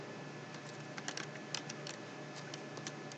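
Computer keyboard keys tapped at a Windows command line, a quiet scattering of light clicks in short irregular bursts over a steady background hiss.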